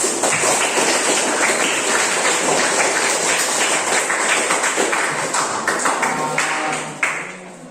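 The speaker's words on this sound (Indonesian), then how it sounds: "Kita kasih aplaus untuk kita semua." Applause from a classroom group of presenters after finishing their presentations, a steady dense patter of clapping hands that runs throughout and fades slightly at the end.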